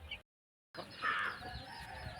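A rooster of a native breed on a small farm gives a few soft, low clucks, faint and somewhat distant, after a brief moment of silence.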